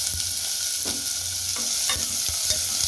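Chopped big onions sautéing for a mutton gravy, a steady loud sizzle in the pan with repeated stirring scrapes and clinks of a spoon, close up and without talk.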